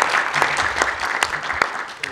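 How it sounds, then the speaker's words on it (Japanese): Applause from the audience at a citizens' rally, a steady wash of many hands clapping in a hall with a few sharper individual claps standing out, continuous throughout. "3名の先生方に大きな拍手をお願いいたします。"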